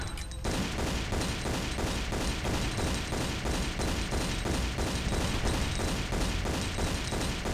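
Rapid, relentless gunfire fills a Tomb Raider level as pistols are fired at demons, shots cracking in a steady dense rhythm for several seconds, loud and close with no pauses, after a brief quiet opening.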